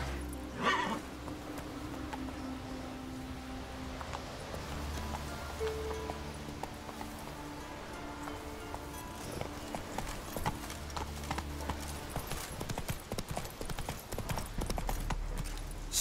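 Roach, the horse in the video game The Witcher 3: Wild Hunt, galloping with rapid, continuous hoofbeats plus a short whinny near the start, under steady background ambience.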